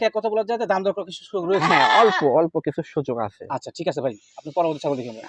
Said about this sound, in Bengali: আপনার সামনে বেশ বড় সাইজ একটা ছাগল দেখা যাচ্ছে এটা কোন জাতের ভাইয়া এটা হলো হরিয়ানা এবং তোতাপুরি ক্রস